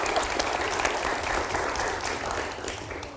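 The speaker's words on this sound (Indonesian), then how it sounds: "kita berikan tepuk tangan untuk Prof." Steady audience applause for a professor at a televised Indonesian talk event, dense and continuous across the whole stretch, easing slightly at the very end.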